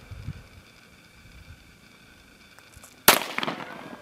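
A single sharp gunshot at an outdoor range with rifle and pistol fired at steel plates, loud and close, following a stretch of quiet wind noise.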